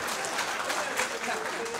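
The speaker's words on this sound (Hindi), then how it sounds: "बजाओ ताली फिर, और क्या।" Brief audience applause at a poetry gathering (mushaira and kavi sammelan), a dense burst of clapping from a seated crowd, close and steady for under two seconds with some voices mixed in.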